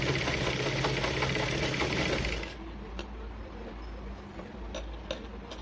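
A sewing machine stitches a blouse lining, running in a fast, buzzy whir for over two seconds, then stopping to quieter ticking and faint mechanical clicks.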